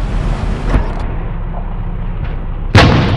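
A tank cannon fires in the War Machines: Tank Clash game, one sharp loud blast near the end over a constant low engine rumble, with a softer thud earlier.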